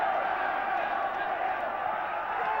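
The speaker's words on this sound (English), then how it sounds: "And what a roar from the crowd" Cricket crowd at a match roaring steadily and loudly throughout, a dense continuous swell of cheering voices with no breaks.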